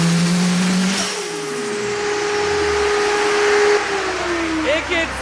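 Nissan S15 with a big turbo and anti-lag, the wastegate dumping to the ground: a loud, close engine note rising and falling, with a harsh whooshing rush and a sharp sputter near the end.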